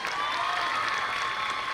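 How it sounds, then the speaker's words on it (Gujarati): Audience at a college annual festival clapping for students, a dense, even patter of many hands at moderate distance, continuous and without voices over it. "તો એકવાર એ બધા જ વિદ્યાર્થી મિત્રો માટે જોરદાર તાળીઓ."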